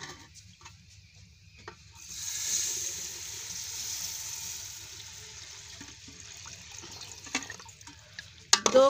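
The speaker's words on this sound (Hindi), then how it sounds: "अब हम इसमें पानी डालेंगे" Water is poured into browned roasted semolina in a pan, starting as a soft hiss after a quiet stretch, then a sustained rushing, sizzling pour for several seconds, ending with a few sharp clatters.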